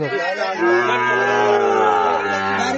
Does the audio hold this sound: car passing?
no